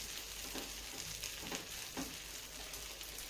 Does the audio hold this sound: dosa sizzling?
yes